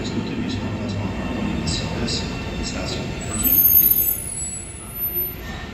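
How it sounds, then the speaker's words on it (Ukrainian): An OC Transpo metro train in Ottawa rumbles and rolls along steadily with faint high squeals, swelling slightly midway, while a person talks over it. "Прикольний такий поїзд."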